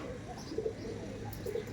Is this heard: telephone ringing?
no